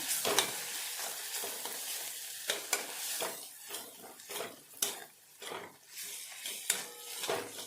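Chili and coriander powder are mixed in a frying pan for an eggplant dish, with a soft sizzle under repeated spoon scrapes and clinks against the pan, near and fairly quiet, no voices.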